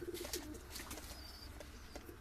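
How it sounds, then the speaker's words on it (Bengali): A pair of Saharanpuri pigeons coos softly, a few low, throaty calls close by early on, fading under faint background noise and a thin high whine. "খুব সুন্দর পায়রা"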